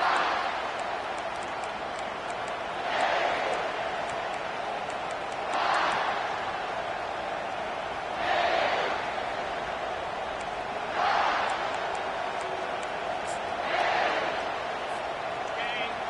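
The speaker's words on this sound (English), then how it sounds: "This crowd bringing an ear-splitting welcome to their visitors." A stadium crowd in a football video game roars as a constant wash of noise, swelling in regular surges every few seconds as the season opener begins, with no clear speech over it.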